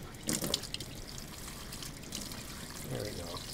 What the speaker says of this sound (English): I'll go ahead and rinse that out.